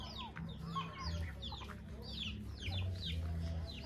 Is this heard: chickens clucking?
yes